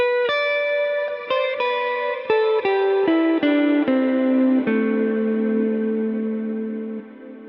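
Strymon Cloudburst ambient reverb pedal on a series of plucked notes, each struck cleanly then blooming into a long, darkening wash that regenerates and sustains, with the tail thickening and lingering after the last note.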